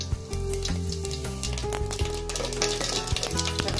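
Mustard seeds splutter in hot oil, a steady close crackle and spit with quick popping bursts, continuous throughout.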